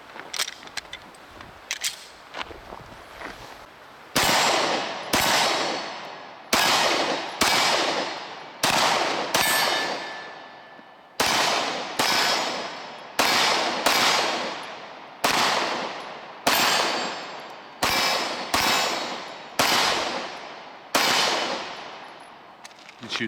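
Walther Creed 9mm pistol fired in a steady series of about a dozen sharp, loud shots spaced roughly a second or two apart, each with a short ringing decay, and no talking.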